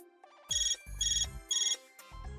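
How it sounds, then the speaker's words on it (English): Phone ringtone in a Neptunia video game, a bright repeating electronic melody in three short bursts over low musical background tones. "Someone's calling me."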